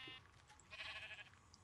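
Sheep bleating in a video game, a short high nasal bleat near the start followed by a brighter, louder bleat in the middle, heard alone at low volume.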